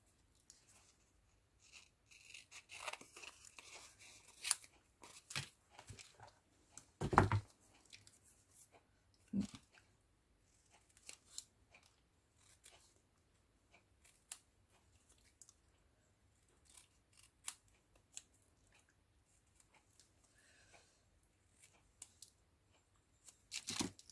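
Scissors snip through a paper botanical label in short, quiet, intermittent cuts and crunches, with pauses between clusters of snips in an otherwise near-silent room.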